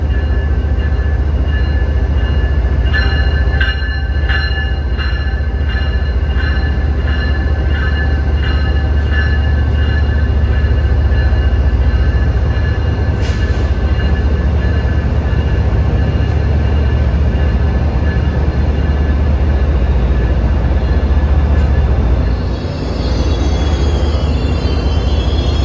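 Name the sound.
Amtrak train 174 arriving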